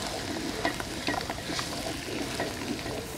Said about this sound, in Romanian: Și vom amesteca să nu se ardă ceapa.